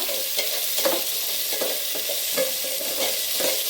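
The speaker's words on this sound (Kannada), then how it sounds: "ಈಗ ಈರುಳ್ಳಿ, ಮೆಣಸಿನಕಾಯಿ ಇವೆರಡು ಸ್ವಲ್ಪ ಫ್ರೈ ಮಾಡೋಣ." Onions and chilies fry in a pan for a mushroom curry, a loud continuous sizzle broken by regular scraping stirs roughly every three-quarters of a second, with no voices.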